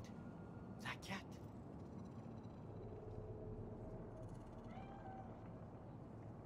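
A cat in the video game Cyberpunk 2077 gives a couple of short, faint meows early on, set against a low city ambience with voices present.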